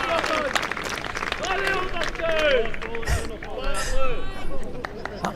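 Spectators at a Scottish National Championships bowls match, Gordon BC versus Westermains BC, cheer and shout in a steady outdoor roar. A commentator talks over the crowd noise throughout.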